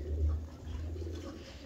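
Pigeons coo in low, soft repeated calls close by, a steady murmuring hum from the flock with no talk.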